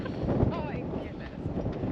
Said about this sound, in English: I apologize, the wind is just like crazy, so hopefully it's not too bad for you guys.